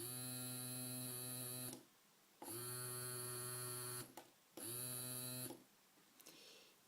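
A small DC motor from an Arduino starter kit spins in three separate bursts, each a steady electric buzzing whine with strong harmonics, close and alone, the sound differing slightly between runs.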